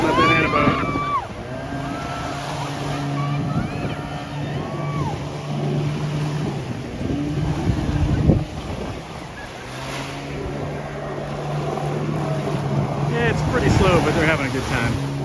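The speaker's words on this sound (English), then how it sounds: "Taking them out on the banana boat." A motorboat towing a banana boat drones steadily on open water off Koh Larn Island, Thailand, amid wind and splashing waves, with voices talking and calling out over the noise.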